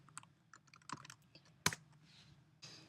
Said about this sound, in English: say I'm typing a word and I misspell it